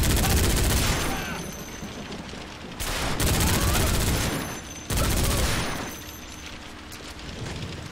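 Gunfire in the video game Bodycount sounds as loud, sustained bursts of automatic fire in several waves, with booming impacts and no clear speech.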